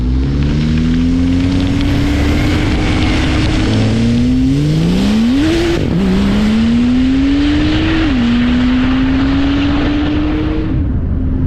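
A Porsche 911 991.2 Turbo S with its silencer removed and a stage 1 engine remap accelerates hard, its loud engine note climbing through several gear changes, close and continuous.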